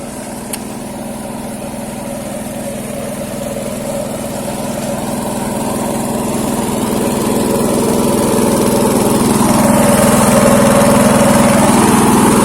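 A water pump engine used to wash a rice harvester runs steadily nearby, a loud, continuous mid-pitched drone with a constant hum that swells slightly as it goes, with no voices over it.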